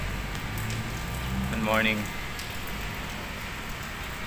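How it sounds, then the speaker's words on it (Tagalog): Heavy rain pours down behind Manila Cathedral, a dense, steady hiss throughout, while a person briefly speaks a greeting partway through. "Hindi kami makaalis. Ang lakas ng ulan, guys."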